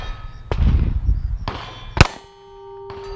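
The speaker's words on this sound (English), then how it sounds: "Bang. Another shot." Pistol shots ring out in a short burst: a sharp metallic clang-like crack near the start, another at mid-point and a brighter loud report soon after, each leaving a ringing tail, with no voices.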